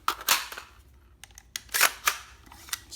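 Sharp mechanical clicks and clacks from the bolt catch of a Ruger AR-556 MPR rifle with a faulty magazine, several distinct metallic snaps spaced unevenly, close and alone.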